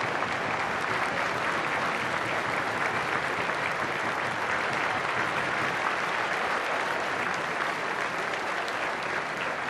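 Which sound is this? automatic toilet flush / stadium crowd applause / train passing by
stadium crowd applause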